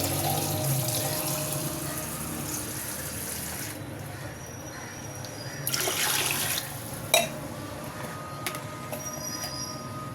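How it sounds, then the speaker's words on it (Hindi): About 1.5 kg of water pours into a pressure cooker for rice, a steady broadband rush that fills the first few seconds before easing off, with a brief splash and clatter partway through. "पानी डालेंगे।"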